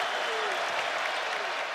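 A basketball arena crowd at a Seton Hall vs Connecticut game applauds and cheers, a dense, steady roar of clapping and voices filling the whole moment with no letup.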